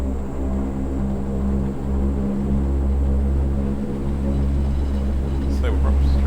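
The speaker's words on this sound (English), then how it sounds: "we are cleared for takeoff" A Convair CV580 turboprop airliner's engines hold a loud, steady, deep propeller drone heard from inside the cockpit, with a continuous tonal hum while crew voices talk over it.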